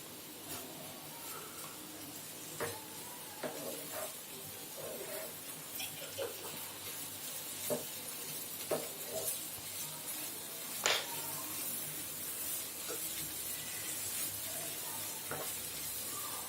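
Bitter gourd and tomato stir-fry for pavakkai poriyal sizzling steadily in a pan, with scattered clicks and scrapes of a spoon stirring throughout, alone without talk.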